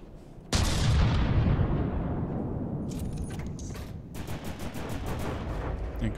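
Incoming cram cannon shell fire in From The Depths, a sudden heavy blast that rolls off into a long rumbling decay, then a series of sharp metallic clanks and rattles.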